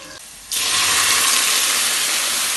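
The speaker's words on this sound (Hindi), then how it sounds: "इसका गोश्त अलग करते हैं और यखनी को जो है वो छान लेते हैं" Chicken yakhni stock poured through a sieve, a loud steady rush of liquid that starts abruptly and keeps streaming without a break.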